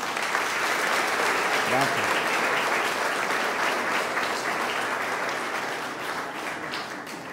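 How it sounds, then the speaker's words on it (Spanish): A congregation at a Sunday Mass led by a priest breaks into loud, sustained applause that fills the room and slowly tapers, while a single voice briefly speaks over it. "Un fuerte aplauso."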